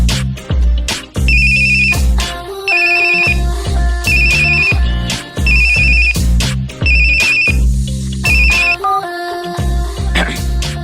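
A cartoon phone ringtone plays loudly as a repeating electronic melody, with several rings in bursts across the clip and a brief pause near the middle, sounding alone without talk.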